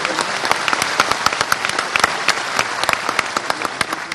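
Audience applause welcoming Chief Minister Mohan Yadav at a seminar in Ravindra Bhavan, steady dense clapping from a large crowd filling the hall throughout, with sharp individual claps standing out.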